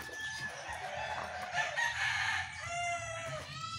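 Chickens cluck around a family house while a rooster crows, the bird calls rising and falling at moderate distance over a low background murmur.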